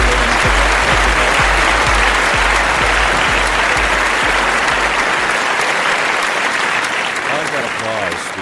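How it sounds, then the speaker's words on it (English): Thick, enthusiastic applause from a large audience fills the air for several seconds, sustained and loud, with some low rumbling early on, tapering slightly near the end as a voice begins to come through. "I like that applause because that applause kind of sounds like a award show"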